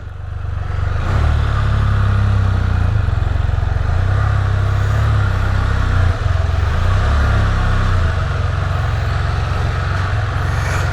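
A Can-Am Spyder three-wheeler engine catches and settles into a loud, steady, rumbling idle close by, holding a constant low drone for several seconds.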